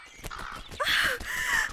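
A crow gives a short, harsh caw, close and fairly loud, after a brief faint lead-in, set in a Ramayana story scene.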